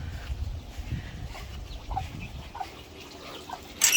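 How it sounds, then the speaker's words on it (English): A broody hen, out for a drink after her eggs were pulled, clucks quietly in short scattered notes over faint outdoor background noise on a very hot day, with a sharp sound near the end. "We have one of our broody here out for a drink because I pulled all their eggs."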